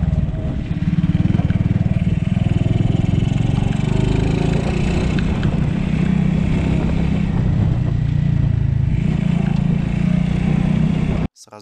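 A Rato pit bike engine fitted with a NIBBI 22 carburetor runs steadily and close by in cold, snowy weather around -2°C. It holds a constant low rumble for about eleven seconds before cutting off abruptly at the end.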